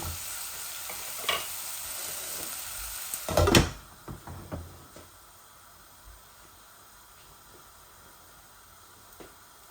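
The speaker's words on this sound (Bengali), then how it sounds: "তারপরে আমি মিষ্টি কুমড়াটা দিলাম, আর একটু ভাজা ভাজা হয়ে যাক।" Sweet pumpkin pieces frying in a pan give a steady soft sizzle, with a louder burst of hissing and stirring clatter partway through before settling back to a quiet fry.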